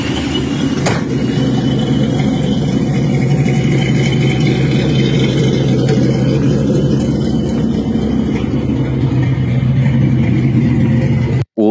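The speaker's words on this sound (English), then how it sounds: "I mean, dude, that's a good sounding exhaust. You could hear the blower up front." A supercharged 2002 Ford Mustang idles close by with a loud, choppy, lumpy exhaust rumble and a faint blower whine, steady throughout before cutting off abruptly at the end.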